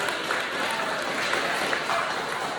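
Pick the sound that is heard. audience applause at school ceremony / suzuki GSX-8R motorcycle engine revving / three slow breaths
audience applause at school ceremony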